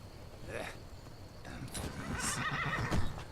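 Horses in Skyrim, summoned from a distance, neigh and whinny as their hooves clip-clop closer, with game ambience and a voice talking over them.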